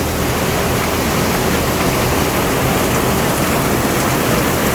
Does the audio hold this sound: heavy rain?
yes